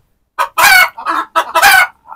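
Hens and roosters on a poultry farm let out a close, loud run of clucks and crowing calls, a handful of sharp bursts with short gaps between them.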